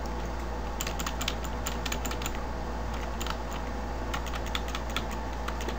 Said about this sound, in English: I keep on moving with the arrow keys.